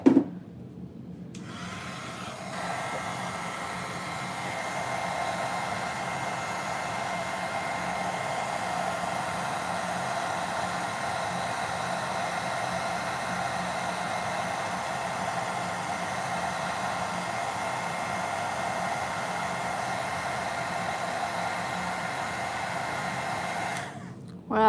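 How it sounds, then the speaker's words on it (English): A heat tool blows a steady, loud whooshing hum over embossing powder on a slimline Christmas card. The tool runs continuously for about twenty seconds, then stops abruptly, with no talking. "All right, I'm gonna heat set this."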